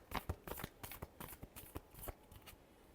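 Tarot cards being shuffled by hand, a fast string of crisp riffling flicks and soft taps, close and fairly quiet, with no voice.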